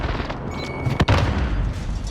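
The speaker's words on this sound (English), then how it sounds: "Allied precision airstrike incoming." An allied precision airstrike explosion in Call of Duty on Rebirth Island, a single sharp boom within a rumbling backdrop of battle noise, fairly loud and close.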